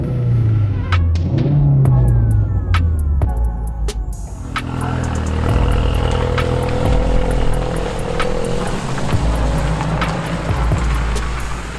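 A 350 hp Ford Focus RS MK3 drives with a steady, close engine and road rumble inside the cabin, its revs rising and falling as it moves, and small ticks and clicks scattered throughout.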